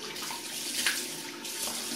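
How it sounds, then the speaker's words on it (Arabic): Water runs steadily from a bathroom sink tap while someone washes their face, a continuous close splashing hiss with brief louder bursts as hands move through the stream, no talking. "اول حاجة غندير هي غادي نغسل وجهي"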